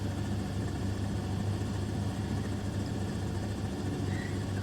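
Steady low droning of a Robinson R44 helicopter cruising in flight, its engine and rotor rumble constant and even throughout, with no voices over it.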